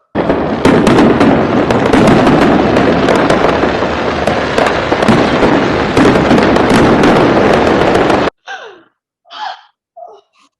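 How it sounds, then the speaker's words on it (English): A rapid barrage of fireworks bursts and crackles played as a loud stage sound effect during a family melodrama performance, dense and continuous for about eight seconds, then stopping abruptly, followed by a few faint breaths and gasps. "Well, sounds like he found my fireworks."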